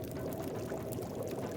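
Water poured into a pot to boil for tea in the survival game The Long Dark, a steady dense splashing pour heard alone and up close for the whole moment.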